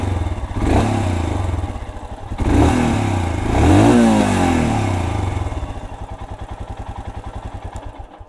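A Royal Enfield Scram 411 single-cylinder with fuel injection is revved in a few loud bursts, then settles into a steady, thumping idle, close up with no talking.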